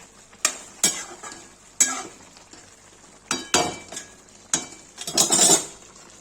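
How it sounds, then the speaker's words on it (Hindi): Cauliflower in a white creamy gravy sizzling in a pan while a spoon stirs it, with scraping strokes and clinks against the metal coming in uneven bursts over a steady low frying hiss; no speech. "वाइट ग्रेवी गोभी बना रही हूँ। भूंज रहा है, भून जाएगा, पक जाएगा"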